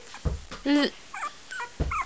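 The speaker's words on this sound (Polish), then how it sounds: "Lordzik i Lea, największy i najmniejszy pieseczek." Small dogs whimpering indoors, with a drawn-out, high, tremulous whine among short yips and sniffly noises, all close and fairly loud.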